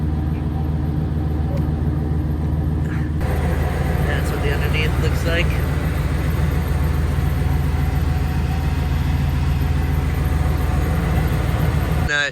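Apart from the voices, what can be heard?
car engine through Flowmaster exhaust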